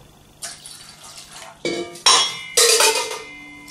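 Water is poured from a tumbler into a pot for a black seed oil drink, with metallic clinks and splashing in a few separate bursts, growing louder toward the end.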